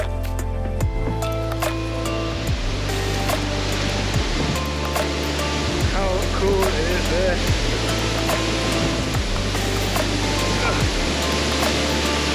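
Waterfall hidden inside a canyon in Iceland, a steady rushing roar of falling water that continues throughout, with a voice talking over it.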